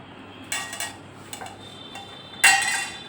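Goat meat being stirred in a cooking pot, with two short bursts of scraping and clinking from a utensil against the metal, separated by a quiet gap.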